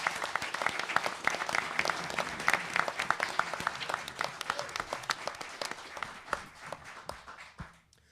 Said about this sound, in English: I just wanted to ask for a round of applause for all of our candidates here today.